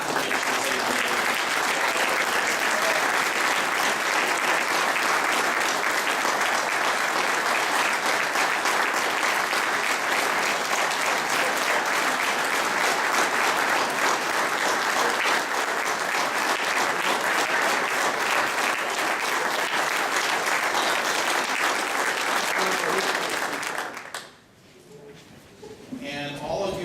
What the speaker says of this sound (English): Let's give them a warm round of applause for the great contributions they've made.